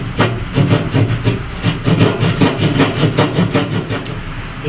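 Repeated rhythmic sawing strokes cut through drywall to open the cutout for a NEAT No Edge Audio Technology speaker, a steady close rasp with quick back-and-forth pulses and no talk.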